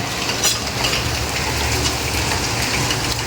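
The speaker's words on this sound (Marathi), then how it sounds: "पाऊस तर बघू शकता बाहेर चालू आहे अजून" Heavy rain pours outside among apartment buildings: a loud, steady, dense hiss of drops striking surfaces that continues unbroken with no voices.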